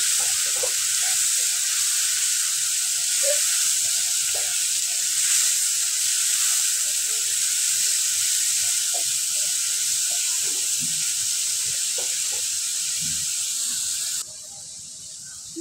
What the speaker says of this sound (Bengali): আমি পেঁয়াজটা একটু কষিয়ে নেব যাতে পেঁয়াজের কাঁচা গন্ধটা চলে যায়